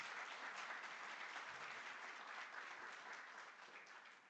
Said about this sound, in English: I would ask for another round of applause to the Honorable Minister